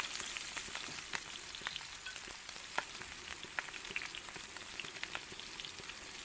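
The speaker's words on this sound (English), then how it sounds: "So all we're doing now is getting a nice crust on this steak." A scotch fillet steak sears in a hot pan for a crust after sous vide cooking, a steady close sizzle with scattered pops and crackles and no talk.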